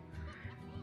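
A rooster in the farming video game Slime Rancher gives short, faint, low clucking honks, repeated a few times against a steady background.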